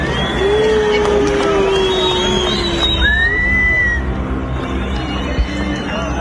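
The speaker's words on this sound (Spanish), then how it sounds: "Pero habla de un momento de abucheo a Kicillof" A crowd boos Kicillof, a steady, dense roar of many voices with whistle-like tones rising above it that keeps up throughout and is fairly loud.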